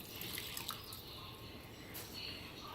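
Water from a tap pours steadily into a pot of rice and liquid for dirty rice, a continuous close trickle and splash with no talk.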